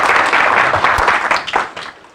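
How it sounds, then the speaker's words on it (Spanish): An audience at a talk on medicinal cannabis gives a short round of applause, a loud close patter of many hands that thins and fades toward the end. "Un aplauso, por favor."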